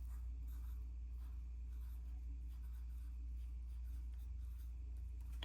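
Fountain pen writing on paper with shimmer ink: faint, close scratchy strokes in irregular bursts over a constant low hum.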